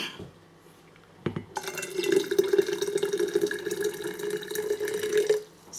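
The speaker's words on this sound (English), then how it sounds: "Let's add a little bit more water." Water runs steadily from a tap into a container of hand-dyeing mix, a continuous close splashing fill that starts after a brief knock and stops near the end.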